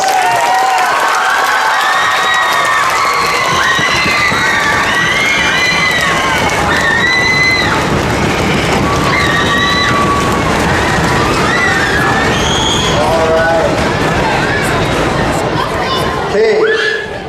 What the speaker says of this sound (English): give our two-time defending baseball state champions one final round of applause.